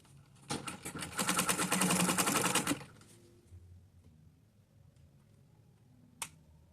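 A sewing machine stitches denim for a six-piece bustier top in one loud, rapid, buzzing run of about two seconds, then stops and leaves quiet room noise with a faint click near the end.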